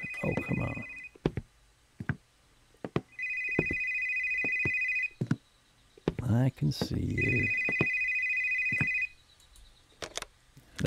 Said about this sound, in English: Oh, my mobile phone.